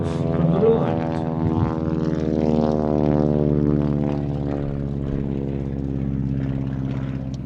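A Stinson Reliant propeller aircraft makes a final pass, its engine drone loud and steady with a strong harmonic buzz that slowly shifts pitch as it goes by.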